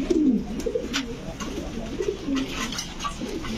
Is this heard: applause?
no